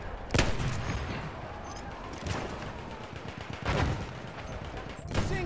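Machine gun fire in a World War I style shooter battle, heard as several sharp, loud bursts at uneven intervals over a constant din of combat noise.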